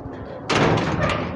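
A door is pushed shut in stormy, windy weather, a sudden loud thud followed by nearly a second of rattling, rumbling noise that cuts off abruptly.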